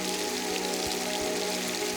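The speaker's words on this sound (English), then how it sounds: "I'm going to be out here in the rain on New Year's Day." Rain falls steadily on a winter walk at Brandywine Falls, a continuous soft patter with no breaks, fairly quiet and even, and nobody speaking.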